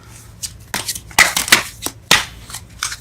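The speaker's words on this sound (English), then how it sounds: "Oh, it's not letting me shuffle here." Tarot cards being shuffled by hand during a reading, giving quick papery riffles and slaps that come in uneven bursts, close and fairly loud over a low background hum.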